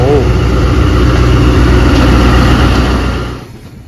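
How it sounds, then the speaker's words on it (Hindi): The Awam Express pulls out of Taxila station with a loud, steady, close engine rumble that holds, then fades away toward the end. "टेक्सला से हमारी गाड़ी का डिपार्चर हो चुका है।"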